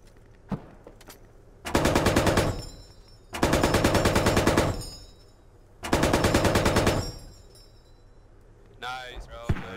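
Three sustained bursts of automatic gunfire in Squad (version 10.2), loud and rapid, separated by short pauses, with a final scattered burst at the end; a voice speaks over part of it.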